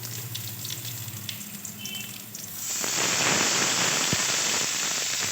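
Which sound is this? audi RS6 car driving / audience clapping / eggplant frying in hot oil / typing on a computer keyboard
eggplant frying in hot oil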